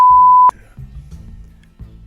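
A loud, steady censor bleep tone sounds for about half a second at the start, then cuts off abruptly into quieter low background sound.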